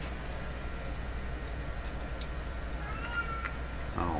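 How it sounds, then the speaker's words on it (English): A cat meowing outside, one short meow near the end, faint and distant over a steady hum, with no talk. "Oh man, my cat's out there already."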